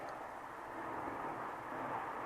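A jet aircraft passes overhead as a steady, broad roaring rumble, moderately loud and continuous throughout, with no voices.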